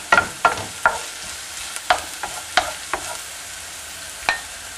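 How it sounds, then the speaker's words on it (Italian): Chopped onion and a pinch of chili sizzling in olive oil in a roomy pan, a soft steady fry broken by repeated sharp scrapes and clicks of stirring, close and without talk. "mettete 3 cucchiai d'olio, quindi aggiungete la cipolla tritata, una punta di peperoncino"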